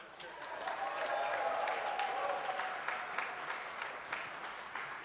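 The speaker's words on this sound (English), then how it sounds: "You can hear the crowd in the background. There's quite a crowd in today." Sustained crowd applause and cheering at a provincial bouldering competition final in a packed venue, a steady wash of clapping with a whoop rising through the middle, heard from a moderate distance.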